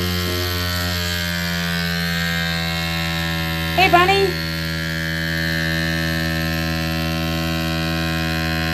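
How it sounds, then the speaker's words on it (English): A FoodSaver handheld vacuum sealer pulls air from a mushroom-scented bottle, giving a steady, close electric motor hum that runs the whole time, briefly interrupted by a short spoken phrase midway. "you're going to hear the sound drop from a higher pitch to a lower pitch when you know it's pulling out the vacuum"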